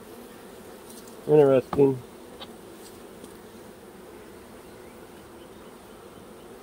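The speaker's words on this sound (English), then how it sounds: "there's a lot more bees up here." Bees hum in a nuc hive, a faint, steady buzzing that runs underneath the whole stretch, with a brief spoken word near the beginning.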